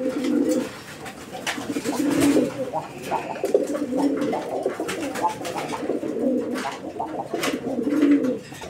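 A red Rajgolla pigeon coos in a steady, repeating series of low, throaty rolls, close by and continuous over a light background hum.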